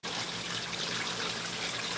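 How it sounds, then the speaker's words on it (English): Steady trickle of water from a hose or backflow line filling a new garden pond outdoors, a continuous soft splashing wash heard alone without talk. "That's a tiny, tiny drip"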